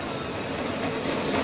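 Train pulling out of Kamalapur railway station in Dhaka, a steady broad rumble of rolling rail cars and wheels with faint squeal, continuous and fairly loud throughout with no talk.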